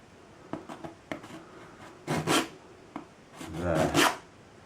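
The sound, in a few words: scraping excess paint off the canvas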